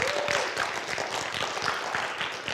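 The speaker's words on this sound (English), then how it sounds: "Let's give him a round of applause." An audience applauding at a cross country team banquet, with steady, dense clapping from many hands filling the room throughout, close and fairly loud.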